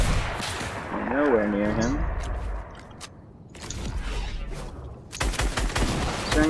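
Sniper rifle shots and bursts of gunfire in a video game, several sharp cracks scattered through the clip and a denser cluster near the end, heard under excited player talk.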